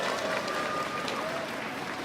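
Esports arena crowd at a League of Legends EU LCS match, a steady broad wash of cheering and applause holding at an even level throughout, with no speech over it.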